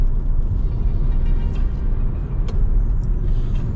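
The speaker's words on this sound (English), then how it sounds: "There's that little turbo. It kicks pretty good" A Hyundai Veloster Turbo hatchback's 1.6-liter turbocharged four-cylinder with front-wheel drive accelerates, heard from inside the cabin as a steady, loud, low engine rumble that holds throughout.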